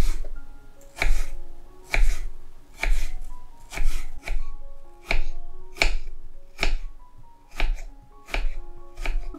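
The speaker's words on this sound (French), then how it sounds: "des toutes petites tranches et donc des tout petits cubes au couteau" A knife chops apples into tiny cubes on a cutting board, making steady, evenly spaced, crisp chops close by, about one per second.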